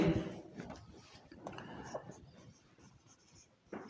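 Chalk or marker scratches steadily across a classroom board during a Class XII agriculture biochemistry lesson, a close, continuous scraping with short strokes and pauses, no talking over it.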